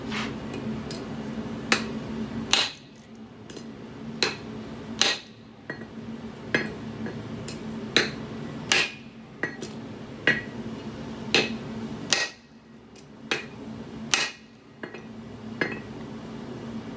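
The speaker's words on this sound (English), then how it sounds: "Now I will be striking it with my 5-pound soft hammer that I forged myself" A hand-forged five-pound soft hammer striking the end of a flattening tool at a forge, sharp ringing metallic blows repeated at an uneven pace, loud and close, with no talk.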